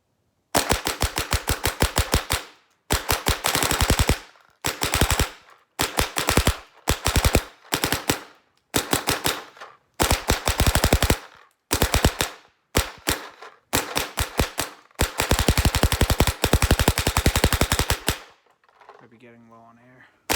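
A Planet Eclipse Dark Ego paintball marker firing uncapped semi-automatic: long, rapid strings of sharp, loud cracks in bursts of one to three seconds with brief gaps, ending in a short fading hiss.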